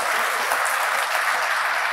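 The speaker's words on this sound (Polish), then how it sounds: "Brawa, brawa." Steady, loud audience applause fills a graduation ceremony hall without pause, a dense wash of many hands clapping together.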